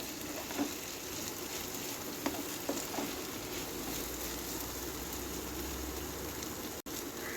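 Onion and tomato masala for a beef roast fry in a pan as a soft, steady, rain-like sizzle with a few faint clicks, fairly quiet throughout.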